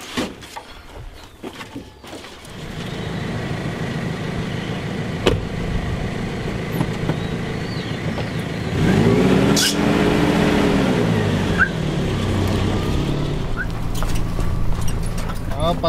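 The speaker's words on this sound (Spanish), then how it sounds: "Lo bueno que el carro me ha respondido por lo momento." A car drives along an unpaved road in Quiché, Guatemala, on the way to the capital, giving a steady engine and road rumble that swells slightly partway through, with low voices present.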